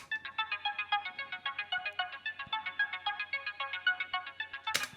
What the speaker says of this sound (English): that just gives it a cool effect, just gives it that kind of moving type of ARP synth sound